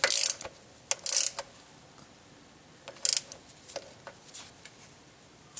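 Short bursts of ratchet clicking tightening alternator bolts into aluminum on a 2008 Dodge Avenger, several quick clusters separated by quiet pauses, close and fairly soft.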